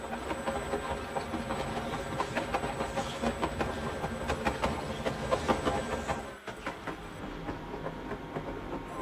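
Tram driving in the Roblox game Nid's Buses & Trams: a steady rolling rumble with regular clicking wheel beats on the track, continuous and fairly close, with a brief dip partway through.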